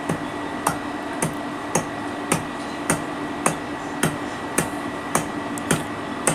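A rubber mallet taps a valve set part into a car AC compressor in about a dozen evenly spaced, sharp knocks over a low background hum, with no speech.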